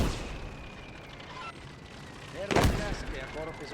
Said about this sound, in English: Let's see if we can saturate the ground over here around D with a little mortar volley.